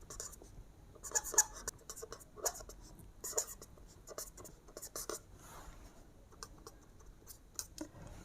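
A pen scratches out a math solution by hand on paper, in quick close strokes and taps with brief pauses between, faint and alone.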